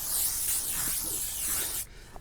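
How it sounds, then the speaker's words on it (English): Cleaner is sprayed onto caravan windows in one continuous, close, loud hiss lasting under two seconds, then cutting off abruptly to quiet. "then you don't need much spray."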